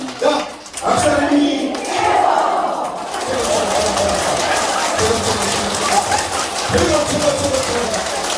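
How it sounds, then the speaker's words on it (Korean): A crowd at a girls' middle and high school gives a standing ovation, sustained dense applause mixed with cheering voices that carries loudly and steadily throughout. "박수"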